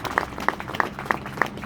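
A small audience applauds in a brief burst, with several distinct, evenly spaced claps standing out over the general patter.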